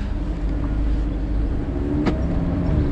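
A 2017 Audi TT RS Roadster sports car engine rumbles steadily at close range, a low continuous drone as the car pulls away.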